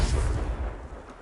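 A Confringo spell detonates in Hogwarts Legacy, a deep booming blast with heavy low rumble that rolls on and slowly fades over about a second.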